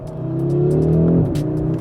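The 2.5-litre turbocharged five-cylinder petrol engine of a 2023 Audi RS3 revs hard after a downshift, a loud, close, rising growl that peaks and then drops off sharply, with crackles on the overrun.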